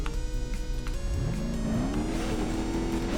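Rock crawler truck engine in BeamNG.drive idling then revving up, pitch climbing steadily and holding at a higher drone, close and loud with steady mechanical whine.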